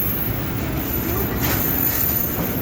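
An eight-wagon train rolls past near a fuel depot, a loud steady roar of wheels on rail with faint squealing, close and unbroken throughout.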